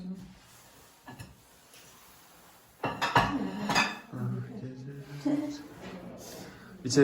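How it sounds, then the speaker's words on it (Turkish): A plate is set down on a table in a small, warm home sitting room, with a few clattering dish and cutlery knocks amid the murmur of people talking nearby. "Geç sen tabağı şu yanıma koy"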